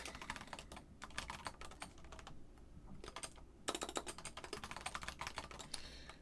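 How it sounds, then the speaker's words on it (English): Fingers type on a computer keyboard in quick bursts of clicking keystrokes with brief pauses between runs, close and steady, and no speech. "typing in front of an audience"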